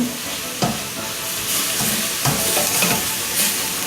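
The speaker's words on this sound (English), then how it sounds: "I'm browning off this meat, and I put some salt and pepper" Ground meat for a cabbage lasagna sizzles in a pan, seasoned with salt and pepper, with a steady close frying hiss broken by scraping stirs.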